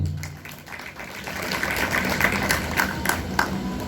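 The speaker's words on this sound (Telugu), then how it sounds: "అందరూ చప్పట్లు కొట్టాలి." A church congregation applauding together, a steady wash of clapping that swells slightly and holds at moderate loudness throughout, with no voices standing out.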